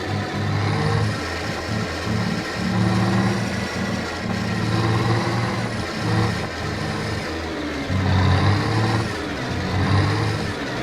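Ford 1210 truck in Euro Truck Simulator 2 with its tyres spinning, a continuous loud diesel engine drone that rises and falls in pitch as it revs, steady throughout with no talk.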